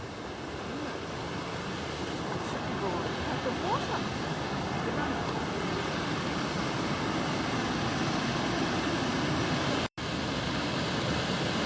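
Water roaring over Douglass Weir near Berrima in the Southern Highlands, a steady broadband rush that holds unbroken throughout, with wind buffeting the microphone and a brief dropout near the end.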